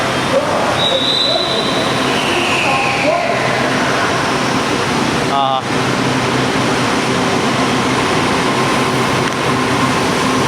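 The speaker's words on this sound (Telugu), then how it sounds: "వియత్నాంలో మెట్రో రైలు." A metro train in Ho Chi Minh City, Vietnam, rumbles steadily and loudly in the station, with brief high squeals and a short clatter partway through; a voice talks over it.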